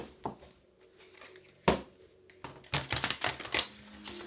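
Tarot cards riffle and snap together in quick bursts, with a few soft taps and pauses between, close and fairly quiet.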